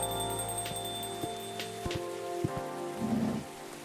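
Steady rain patters in the café game Coffee Talk, a soft continuous wash with scattered drops and faint tonal background music, heard alone without voices.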